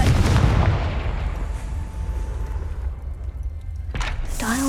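A Confringo fire spell explodes in the Hogwarts Legacy video game, opening with a loud booming blast that fades into a rumbling tail, followed by a sharp magical effect near the end.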